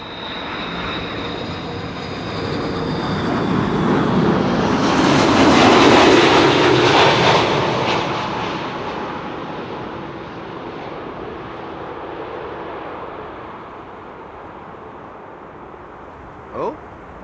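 A KLM Airbus A330 arriving from Toronto lands at Amsterdam Schiphol with a bouncy touchdown, a broad jet roar that swells to a loud peak mid-way and then fades as the aircraft rolls out.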